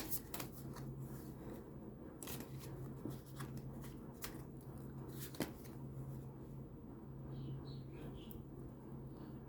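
Oracle cards shuffled close by in a few soft riffles and taps over a steady background hum, with no talking.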